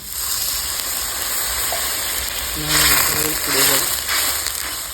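Whole spices, clove and coriander powder with red chili, sizzle in a hot pan for home-style chicken curry, then a little water hits with a brief louder hiss and bubbling before settling back to a steady fry.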